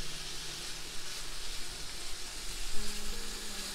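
Bacon frying in a well-seasoned orange iron skillet gives a soft, continuous sizzle and crackle at low volume, with no voices.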